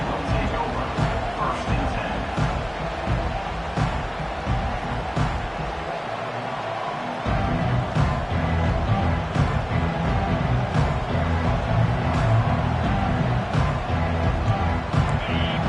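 Steady roar of a football stadium crowd at a college game against Georgia, a dense, continuous wall of cheering and noise throughout, with an announcer's voice running over it.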